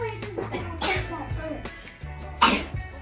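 A sneeze bursts out in a hotel room at Legoland, loud and close, alongside cough-like sounds and a voice nearby.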